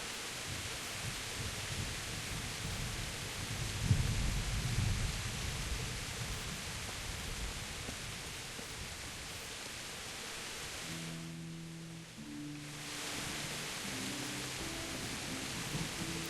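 Steady heavy rain hissing through a thunderstorm in the medieval game Kingdom Come: Deliverance, with a low rumble of thunder swelling around four seconds and faint tonal game sounds near the end.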